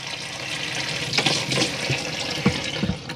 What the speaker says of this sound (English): You see that water there is getting lovely and warm